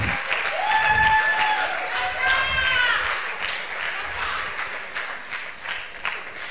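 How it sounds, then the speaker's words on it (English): Audience at the Ake Arts & Book Festival applauding a writer, a dense wash of clapping from many hands that starts strong and gradually thins out, with a voice speaking briefly over it near the start. "Please clap for him again."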